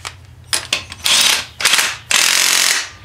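An impact wrench tightening front brake bolts on a Datsun S30, several close, loud bursts of rapid hammering, the last two longer, separated by short pauses.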